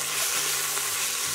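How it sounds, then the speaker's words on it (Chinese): Sichuan peppercorns and star anise fry in hot oil in a farmhouse kitchen, giving a steady, close, bright sizzle that runs unbroken and alone. "热油先做酱，放花椒8角，炸香后捞出"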